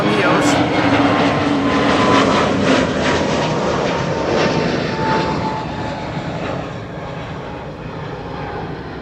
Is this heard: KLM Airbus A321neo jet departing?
yes